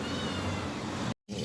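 A pet cat lets out a long, loud, drawn-out meow close by, broken by a brief gap before the cry resumes.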